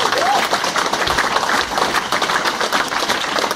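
An audience at a seminar gives a dense, continuous round of applause throughout, with a few voices mixed into the clapping.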